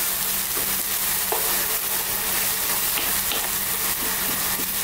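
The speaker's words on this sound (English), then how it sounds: "we're now going to add our fresh tomatoes that I've pureed." Pureed fresh tomatoes hit frying onions in a pan for prawn curry, giving a loud, dense, continuous sizzle and hiss with a few faint spoon clicks.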